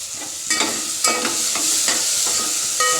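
Ghee tempering (phodni) for khichdi sizzles loudly and steadily in a pot, broken by several brief scraping and clinking stirs of a spoon, close up with no voices.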